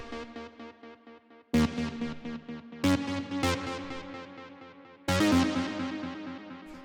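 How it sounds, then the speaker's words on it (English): Synth drop lead from a cosmic techno track, bright sustained layered chords that restart with loud hits at a few points, each one fading a little before the next, playing alone. "So the next thing that we have here is the drop lead"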